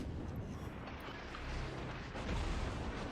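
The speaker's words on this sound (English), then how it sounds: "Secondaries are shooting at him" Secondary guns on a warship fire at the French cruiser Henri IV in World of Warships, a dense, continuous rumble of distant booms and bursts with louder swells near the end.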